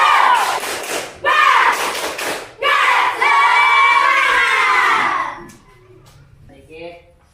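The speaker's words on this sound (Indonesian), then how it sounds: "Coba kita semuanya tepuk semangat." Schoolchildren in a classroom perform a spirit clap chant, with loud rhythmic group chanting and bursts of hand claps in close succession, followed by a quieter stretch with scattered voices.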